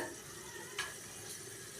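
Cinnamon and cloves sizzle in hot oil inside a heated pressure cooker, giving a steady, faint frying hiss with one brief clink near the middle.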